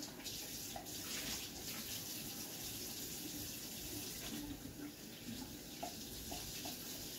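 Tap water runs steadily into a kitchen sink to soak greasy dishes, a continuous close splashing rush with a few faint clinks near the end.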